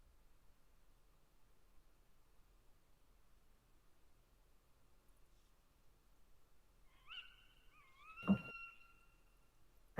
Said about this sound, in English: you are able to hear an owl hooting and doing its usual thing